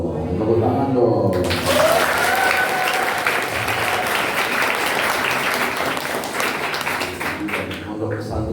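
A crowd of students at an Islamic boarding school sermon applauds loudly and continuously, dense clapping close up that swells after a brief spoken opening and then slowly tapers.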